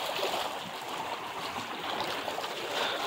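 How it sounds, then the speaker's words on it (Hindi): Fast-moving sea water off Karachi during a fishing trip, a steady broadband rush and gurgle of current that stays close and even throughout with no voices. "पानी तेज हुआ हुआ है,"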